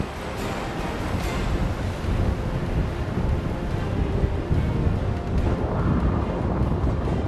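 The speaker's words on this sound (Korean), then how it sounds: "배가 뜰 수 없을 정도로 부는 바람." A strong, near-typhoon wind blows off a rough sea near Ulleungdo, with heavy waves crashing in a continuous roar and wind buffeting the microphone, with no voices.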